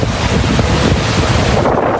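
Strong coastal wind at Tuzla roaring across the microphone as high waves rock a row of boats, a loud, steady rushing wash with surf churning underneath and no voices.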